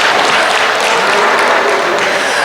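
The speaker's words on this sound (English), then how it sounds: "would you proudly give a round of applause first off for our Suffolk exhibitors?" A ringside crowd at a sheep show applauds the Suffolk exhibitors, a thick continuous roar of clapping held at one level throughout.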